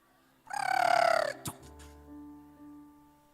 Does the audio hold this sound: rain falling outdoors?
no